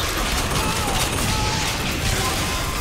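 Steady, continuous gunfire in BioShock Infinite during a chaotic firefight over New York, a dense mid-level rattle of shots and mechanical noise running without a break.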